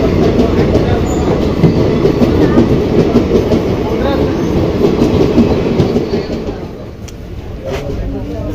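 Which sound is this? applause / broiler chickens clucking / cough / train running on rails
train running on rails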